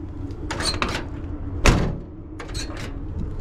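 Door of a 1979 Chevy truck swinging and shutting with a single solid thunk midway, set among metallic rattles and handling noise at close range.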